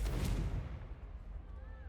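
In Hogwarts Legacy, the Confringo explosive spell goes off with a deep, rumbling blast that fades over about a second, followed by a faint, quiet tail.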